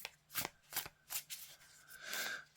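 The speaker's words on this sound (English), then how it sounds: "I've just shuffled a card in there that I don't want to be shuffled in" Tarot cards riffled and shuffled by hand during a pick-a-card reading, a few quick papery bursts spaced across the moment, close and fairly quiet with no talking.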